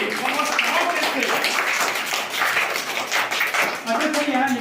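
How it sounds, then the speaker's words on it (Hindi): Schoolchildren clap loudly together in a classroom, a dense, sustained burst of applause lasting several seconds, with voices mixed in. "आप लोग जोरदार ताली।"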